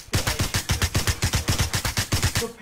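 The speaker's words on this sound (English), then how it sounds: "The pan blocked like six shots" Rapid automatic gunfire in PUBG strikes a frying pan, producing a fast, evenly spaced string of about sixteen sharp, loud metallic cracks over two and a half seconds.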